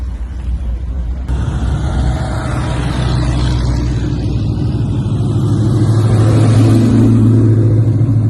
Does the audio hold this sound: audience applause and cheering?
no